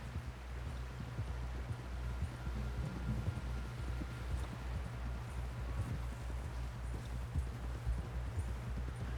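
Horse hooves clip-clopping in Red Dead Redemption, a steady, close rhythmic trot over a constant low rumble of ambience, continuing throughout without talk.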